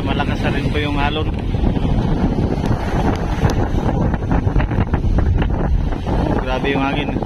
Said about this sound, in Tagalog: Grabe yung hangin. Malakas.